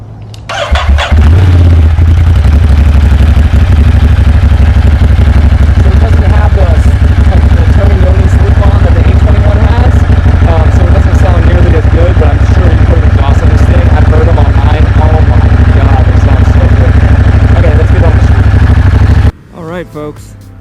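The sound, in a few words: 2020 Ducati Monster 1200 S motorcycle engine idling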